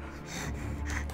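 A man wearing a corset gasps for breath, a close, strained breathy rasp with a snorting edge that sustains for about a second.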